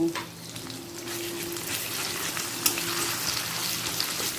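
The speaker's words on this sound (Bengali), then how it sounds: "আমি এক চামচ আদা কাঁচা লঙ্কা বাটা দিয়ে হালকা তিরিশ সেকেন্ড মতো ভেজে নেব" Ginger and green chilli paste frying in oil for dal puri filling: a bright, constant crackling sizzle close up, with a low hum underneath and a single sharp clink partway through.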